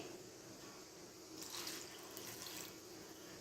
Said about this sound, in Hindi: तकरीबन हाफ कप के करीब हमने पानी ऐड किया है।